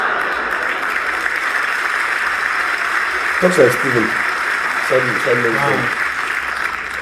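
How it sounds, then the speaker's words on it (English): Steady applause from a comedy audience fills the background while someone speaks briefly over it, the clapping loud and continuous throughout. "A round of applause for a Fritzl joke."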